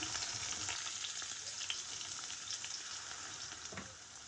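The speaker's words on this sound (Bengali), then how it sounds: "এই যে তেল গরম হয়ে গিয়েছে তো এর মধ্যে আমি এই পেঁয়াজ আর মরিচ দিয়ে দিচ্ছি" Onion and chili hiss and crackle in hot oil for a Bengali home-cooked dish, a loud, constant close sizzle with occasional pops and no one speaking.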